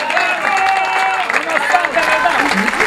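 A theatre audience applauds for Antonello Rondi, giving a dense, continuous clapping with crowd noise and a voice audible over it.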